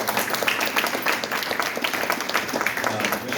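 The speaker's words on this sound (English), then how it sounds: "Give a round of applause to this woman." Dense audience applause fills a room after a speaker at an equity event, steady rapid clapping close and continuous with a little crowd murmur mixed in.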